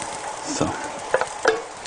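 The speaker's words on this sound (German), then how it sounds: "Das kocht jetzt richtig schön. Ich rühre es aber nicht zu hart" A spoon scrapes and stirs through a pot of simmering goulash, a few distinct clinks and scrapes over a soft, steady simmering hiss.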